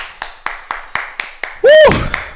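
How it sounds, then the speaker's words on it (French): A karate class at a black belt session applauds itself, with about eight sharp, evenly spaced claps close by, then a voice cuts in near the end. "Et on s'applaudit"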